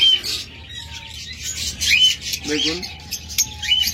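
Pet birds offered for sale as pairs, such as lovebirds, budgerigars or cockatiels, give sharp, scattered chirps and short squawks close by, while someone speaks briefly over them.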